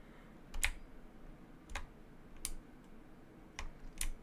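Keyboard tapped in short, separate bursts of keystrokes, about five clusters spread over four seconds with pauses between, close and fairly quiet against a low background hum.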